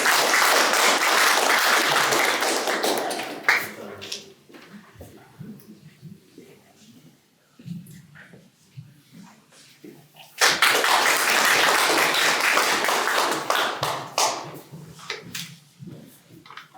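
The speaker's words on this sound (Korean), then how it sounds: "큰 박수 부탁드립니다." Applause at the launch ceremony of a memorial association gathering in Daejeon: two long bursts of hearty audience clapping, split by a quieter lull where someone speaks.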